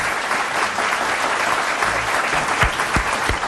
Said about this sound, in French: Je vous demande d'applaudir très